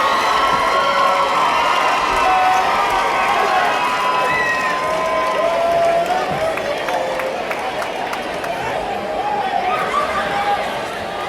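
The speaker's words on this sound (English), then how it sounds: "The crowd's getting revved up" A packed gym crowd at a high school boys basketball game between Cathedral Prep and McDowell keeps up continuous loud cheering, shouting and chatter throughout.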